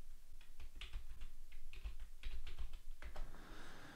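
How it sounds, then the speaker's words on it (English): A song title is typed on a computer keyboard in quick, close, crisp keystrokes with short pauses between bursts, fairly quiet and alone. "I'll just type in the song title too."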